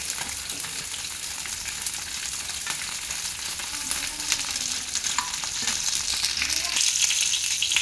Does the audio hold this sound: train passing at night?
no